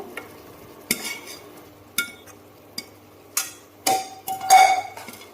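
Boiled eggplant being stirred into masala in a pan, a spoon knocking and scraping the metal in sharp separate strokes about once a second over a soft low sizzle.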